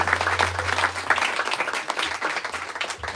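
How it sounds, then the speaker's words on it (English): A bookstore audience claps at an author event, scattered yet steady applause at moderate volume, with a low hum underneath and individual hand claps standing out. "So let's give a big round of applause"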